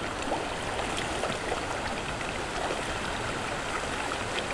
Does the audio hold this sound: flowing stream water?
yes